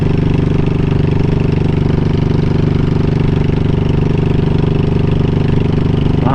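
Motorcycle engine running steadily while riding, a loud, continuous, even throb heard close up throughout, with no talking.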